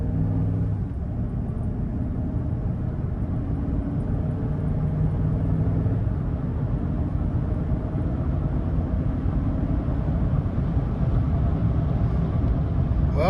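A 2007–2013 Chevrolet Silverado drives along a road at speed. Its steady low rumble of engine and road noise is heard from inside the cab for the whole stretch, with no talking.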